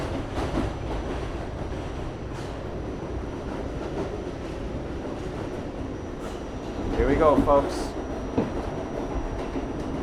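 A New York City subway train runs toward Midtown Manhattan during the morning rush, a steady rumble of wheels and car noise with a brief squeal, while someone speaks briefly over it.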